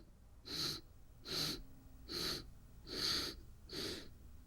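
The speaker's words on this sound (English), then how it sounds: "So we taught Voloma breathing, which is basically intermittent inhales" Five short, sharp inhales through the nose come at an even pace about eight tenths of a second apart, each a breathy sniff, close and quiet, demonstrating a Zen breathing exercise.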